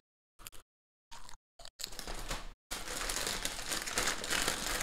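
A bag of pepperoni chips is torn open, giving several short crinkling bursts followed by steady, close rustling crackle of the foil packet.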